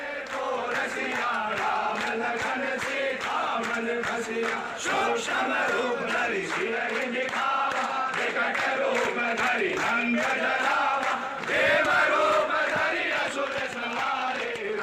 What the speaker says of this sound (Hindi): हजारों की भीड़ सड़क पर उतरी और हनुमान चालीसा का पाठ शुरू किया